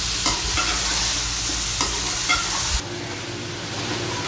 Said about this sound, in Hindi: अब मैं इसे अच्छे से फ्राई करती हूँ